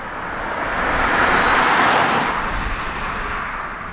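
A 2021 Mini Cooper SE electric car accelerating at full throttle, a smooth rising whoosh of road and wind noise swelling to a peak and easing off, with no engine rumble.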